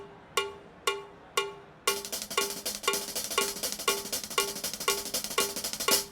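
Bright cowbell-like percussion plays three spaced single hits, then shifts into a steady rapid stream of 16th note triplets at 120 bpm, loud and close with ringing overtones.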